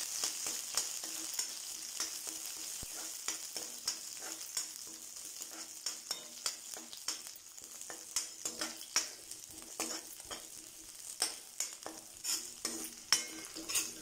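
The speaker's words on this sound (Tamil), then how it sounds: "சேர்த்துட்டு எல்லாத்தையும் ஒன்றா வதக்கிக்கலாம்." Garlic, shallots and curry leaves sauté in hot oil for a Tamil eggplant curry, giving a steady close sizzle broken by frequent sharp stirring scrapes and clicks of a utensil against the pan, with no talking.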